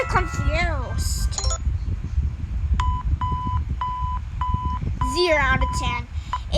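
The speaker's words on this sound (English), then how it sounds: "It's just beeping." An alarm gives a series of regular, evenly spaced electronic beeps at a steady pitch, clearly audible between bursts of voices that speak before and after.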